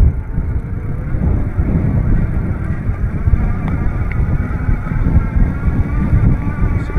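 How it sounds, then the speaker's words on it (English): An ENGWE Engine X electric bike pulls away on throttle from a standstill without pedaling, in its first mode: a loud, steady low rumble of motor and rolling noise, likely with wind buffeting, continuing unbroken with no talk. "We are now going to try the throttle, which is now unlocked on this ENGWE Engine X"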